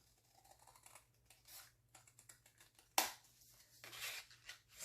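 Scissors trimming a paper pocket for a handmade journal, a sequence of close, quiet snips and crisp cuts, with one sharp louder snip near the middle and paper rustling, no voices.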